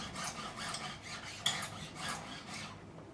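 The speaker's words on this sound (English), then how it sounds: "Safe-sided the file down, angle it to where I want it, like so. And it's just a matter of getting this bevel where I want it." Steel file rasping across guitar fret ends to bevel them during a refret of a Michael Kelly Patriot Premium, in close repeated strokes at a steady rhythm with no talking.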